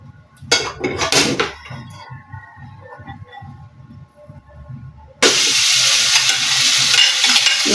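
Leftover rice is stir-fried into sinangag in the pan used earlier for eggs and picadillo: a spatula scrapes in a steady rhythm at first, then a loud, sustained sizzle bursts up and holds.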